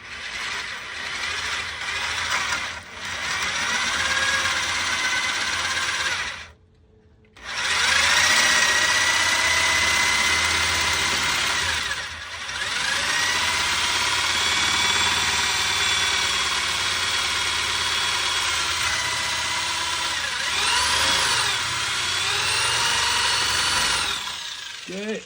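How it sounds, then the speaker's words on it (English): A power drill runs loud and close in long bursts, pitch wavering as it bites into the wood of a DW bass drum shell, with a brief pause and a few short stops. "you're also going to drill it from the inside."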